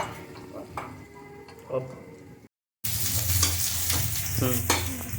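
Onions frying red-brown in a pan for chicken biryani, a sizzle with scraping stirs and clinks of utensil on metal, louder after a brief cut, with some voice alongside.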